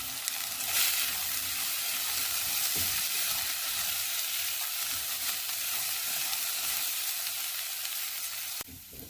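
Lentils sizzling in a pan with browned onions, a dense, steady frying hiss with faint stirring, constant and close throughout, ending with a brief knock.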